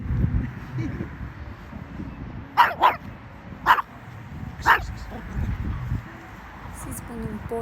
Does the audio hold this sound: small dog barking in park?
yes